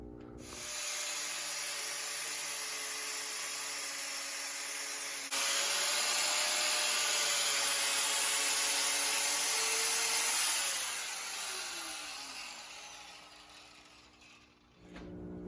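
Abrasive sanding strips paint and gray mill scale down to bare steel on a 1997 Rockwood Freedom trailer during a lift kit install, a steady close gritty hiss over a power tool's hum, intensifying midway and then winding down.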